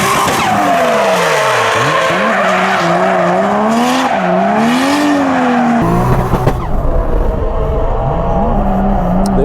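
Car tires squeal continuously in a long, loud drift skid as an engine revs and drones underneath, rising and falling with the throttle.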